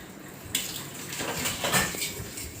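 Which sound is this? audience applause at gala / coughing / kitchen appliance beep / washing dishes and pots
washing dishes and pots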